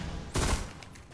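Gunfire in the video game Destiny, a sharp loud burst of shots about a third of the way in that quickly tails off into a quieter background.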